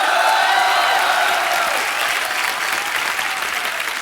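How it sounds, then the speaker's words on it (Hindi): A studio audience at The Kapil Sharma Show, a comedy talk show, breaks into loud, sustained applause that keeps going steadily for the whole stretch, dense and near, with no speech over it. "हौसला अफजाई के लिए ठोको ठोको। तालियां।"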